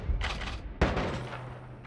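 Bombs go off in Noita, two sharp close blasts with crackling, fiery tails that fade quickly, the second one louder.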